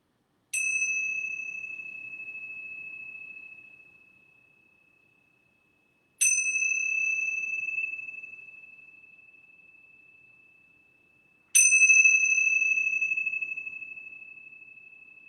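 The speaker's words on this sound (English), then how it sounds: "I'm going to ring these yoga bells 3 times." Yoga bells struck three times at even intervals, each a bright, clear ring that rings on and slowly fades before the next strike. Nothing else is heard in the quiet room.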